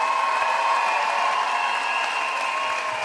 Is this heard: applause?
yes